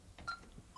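A brief burst of telephone keypad tones, a couple of short beeps pressed in quick succession, faint and close.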